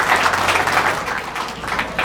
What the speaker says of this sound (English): Welcome her with huge round of applause.